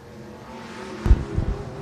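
Stock car engines at Shelby County Speedway roar and rev up briefly as the green flag drops, a short loud swell of several motors rising together over a low rumble.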